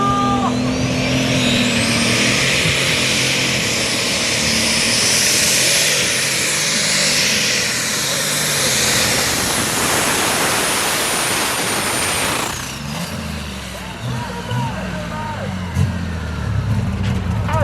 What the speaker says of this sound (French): on monte le moteur tout doucement dans les tours.